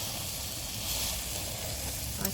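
Chicken roasting on an outdoor barbecue gives a steady, dense sizzling hiss at close range, with a small knock near the end.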